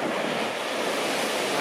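Ocean surf at high tide on the coast at Fort Bragg, California, a loud continuous wash of breaking waves mixed with wind noise on the microphone.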